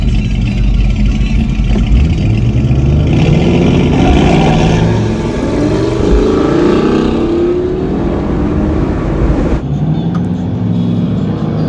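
An Audi RS5 Sportback launches in a drag race against a cammed old-school rear-wheel-drive truck, loud engines roaring and rising steadily through the gears for several seconds, close by, then cutting off sharply near the end.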